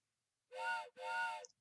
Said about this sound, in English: Train whistle.